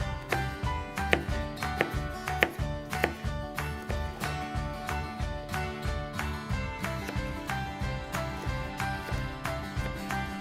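A knife chops an onion into very small pieces for beef barley soup, giving a steady run of sharp, evenly spaced close taps over continuous background music.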